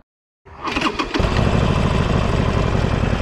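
A 2020 Harley-Davidson Sportster 48 motorcycle engine cranks and fires after a brief silence, then settles into a loud, steady, rumbling idle close by.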